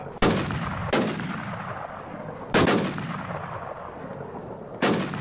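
Sniper rifle shots in the online shooter WarZ ring out as four loud, sharp blasts with long echoing tails, spaced unevenly about a second or two apart, with no talk.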